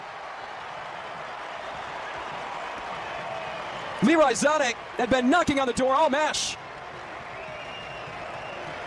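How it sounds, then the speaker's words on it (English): German supporters in a World Cup stadium roar after a goal against the USA. The broad, steady crowd noise carries on beneath someone commentator talking over it. "The German faithful in the crowd erupt."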